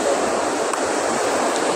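Water at Madlum river rushes in a steady, broadband wash, loud and close, with no break.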